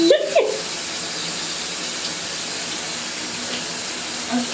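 Running water for a dog's bath flows steadily from a tap, loud and close, with a brief splash or clatter at the start and nobody talking.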